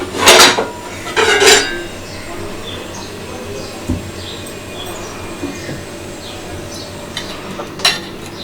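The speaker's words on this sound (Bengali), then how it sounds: "এবার ঢাকনা খুলছি" A cooking pot lid is lifted off a steamed dish of prawns wrapped in taro leaves, giving two loud metallic clatters at the start, a soft clink midway and a final clank, with quiet room noise between.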